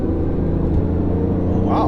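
A BMW i8 accelerates at full throttle, heard from inside as a steady low engine drone and rumble rising slightly over a brief moment.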